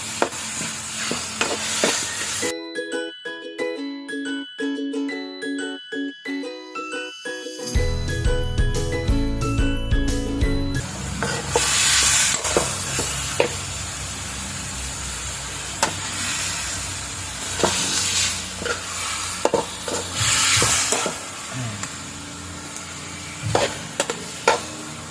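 Ground beef and alugbati sautéing in a pan, a steady sizzle with frequent metallic scrapes and clinks of stirring, preceded by a stretch of music.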